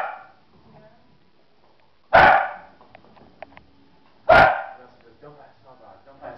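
Small dogs in a fight let out two loud, sharp bark bursts about two seconds apart, close by, with faint yips and scuffling in between.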